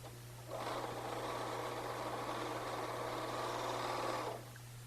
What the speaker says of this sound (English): So it's back to the serger.